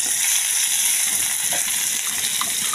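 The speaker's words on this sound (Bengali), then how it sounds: "এবার তেলে জিরা তেজপাতা ফোড়ন দিচ্ছি" Cumin seeds and bay leaves tempering in hot oil in a pan give a steady, close hiss of sizzling, with a few faint crackles, and no voices.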